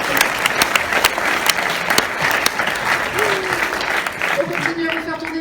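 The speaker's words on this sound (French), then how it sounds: "On peut l'applaudir" An audience at a French film premiere claps continuously, with a few voices murmuring underneath and the clapping thinning out toward the end.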